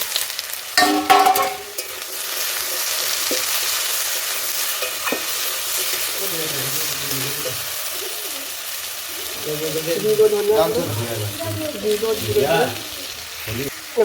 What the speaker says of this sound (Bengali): এবার ঢাকা দিয়ে আমি নাড়বো